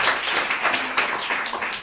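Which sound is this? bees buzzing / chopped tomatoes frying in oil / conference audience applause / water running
conference audience applause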